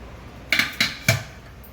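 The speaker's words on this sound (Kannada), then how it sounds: "ಫಸ್ಟಿಗೆ ಧನಿಯಾ ಹುರಿತಾ ಇದ್ದೀನಿ" Coriander seeds roast in a spoonful of oil in a pan over medium flame while a metal spoon strikes the pan three times in quick succession, giving close, bright clinks over quiet background. No one speaks.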